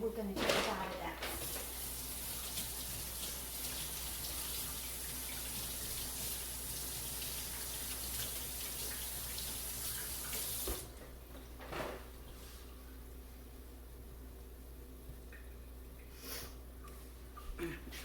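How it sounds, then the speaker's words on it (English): Tap water runs steadily into a kitchen sink while hands are washed beneath it, a continuous close splashing rush that cuts off partway through, leaving quieter room sound. "So I'm going to wash my hands"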